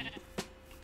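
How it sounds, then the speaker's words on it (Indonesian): Sheep in the Minecraft video game give a single short bleat, faint and brief amid low background noise. "Ada dua domba."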